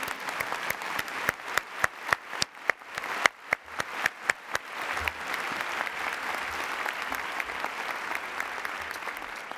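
A lone speaker's own slow handclaps open at a university presidential address at Ohio State, sharp single claps spaced roughly every third of a second, before a steady wash of audience applause fills the room for the remaining seconds.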